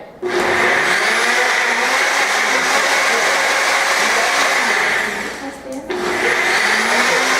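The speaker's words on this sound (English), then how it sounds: "We're going to blend up our smoothie." A blender blending a smoothie roars loudly and steadily, dips briefly for a moment, then surges back up to full power.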